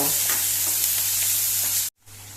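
Ingredients for Goan-style chicken fry in a pan with a loud, continuous close sizzle and a low steady hum beneath, then a sudden brief dropout before the frying resumes slightly quieter.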